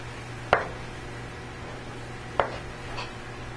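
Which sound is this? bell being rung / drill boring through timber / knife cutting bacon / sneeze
knife cutting bacon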